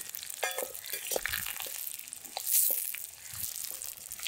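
Small shallots and curry leaves fry in a pan for a quail pepper fry, an uneven, moderately quiet sizzle with crackles and short scraping bursts as they are stirred.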